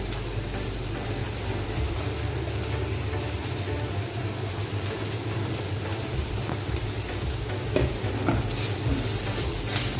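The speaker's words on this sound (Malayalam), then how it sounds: "നന്നായിട്ട് മിക്സ് ചെയ്യാം" Spinach and grated coconut thoran is stirred in a hot pan over a steady, close sizzle, with occasional scraping strokes standing out near the end.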